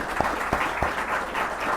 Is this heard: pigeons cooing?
no